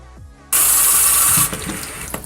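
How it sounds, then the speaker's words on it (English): A tap bursts on and water runs loudly, then drops to a softer splashing as an AmazerBath bath sponge is rinsed under the stream. "just turn on the water and rinse it off."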